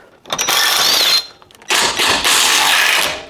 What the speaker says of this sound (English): either get strong or just get your impact wrench and take these 17 millimeters out